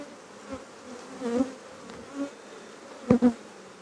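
A few honey bees buzz at an apiary hive in a pre-winter check, each buzz a short, soft pass close by, with the last two louder bursts near the end.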